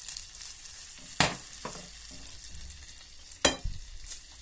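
Butter melting with chocolate in a pan over gentle low-to-medium heat gives a soft, steady sizzle, broken by a few sharp scrapes and knocks of a utensil stirring against the pan.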